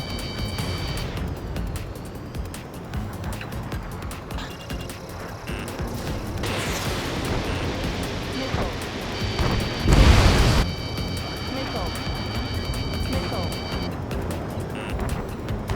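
A missile strike explodes in the Ace Combat 7 video game, a sharp loud burst standing out from the continuous roar of jet engine noise and game effects, with radio voices talking around it.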